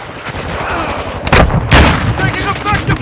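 Loud, close gunfire in Call of Duty: Modern Warfare II, bursts of rapid shots and heavy booming blasts over a dense battle din, with a voice speaking under the action.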